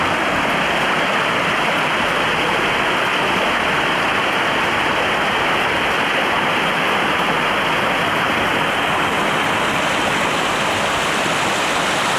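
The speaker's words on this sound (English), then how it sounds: "there's a river underneath that snow." A river rushing beneath snow on a mountain climb, a steady, loud, broadband roar of flowing water that holds constant throughout with no voices.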